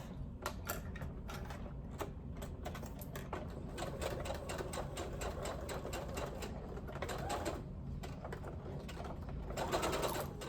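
Sewing machine running basting stitches through fabric, a steady, fairly quiet rapid needle chatter that carries on nearly unbroken for the whole stretch.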